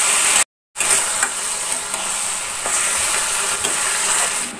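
Mutton sautéing in a pan, a steady loud sizzle and hiss with occasional stirring scrapes, broken by a brief silent gap near the start.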